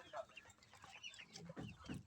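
Domestic chickens, grown chicks kept as pets, cluck in a quick irregular series of soft calls, fairly faint and close together.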